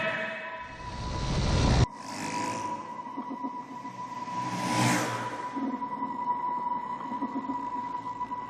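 Race cars at a track pulling away at the green flag to start a 12-lap race, a brief loud burst nearby and then a sustained blend of engine drone that swells and fades as they pass, with no speech.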